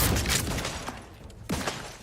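Gunfire in The Outer Worlds 2: several loud, close shots and thuds across two seconds with scattered impacts in between, a heavy blast near the end.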